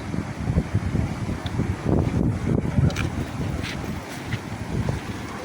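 A strong, fast-flowing river in flood rushes loudly and continuously close by, its churning water mixed with wind buffeting the microphone, with no talk over it.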